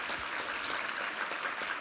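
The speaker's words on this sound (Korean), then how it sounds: "우리 하나님께 감사와 영광의 박수 올려드리겠습니다" A church congregation claps together during a Sunday worship service, a dense, even patter of applause that fills the room without a break, with no speech.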